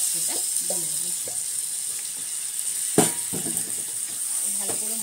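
Marinated mutton sizzles steadily in oil-rich fried spices for a spiced mutton kosha, a bright continuous hiss with occasional stirring clatter and a voice speaking over it.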